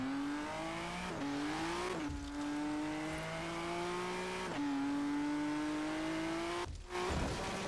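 A modded Ford GT in Forza Horizon 3 revs hard through repeated upshifts, its engine note climbing steadily with brief dips at each gear change, loud and continuous with a faint squeal of tyres near the end.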